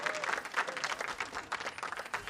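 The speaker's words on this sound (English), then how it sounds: "Give a round of applause to yourself in the Riot Games Arena." Dense crowd applause rolls on throughout at the Riot Games Arena during an LCS esports playoff match, a steady wash of many hands clapping in a large hall, heard from a distance and fairly quiet.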